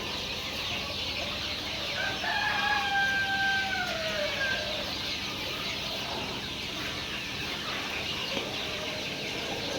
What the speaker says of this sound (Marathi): या ठिकाणी गावरान पक्षी आहेत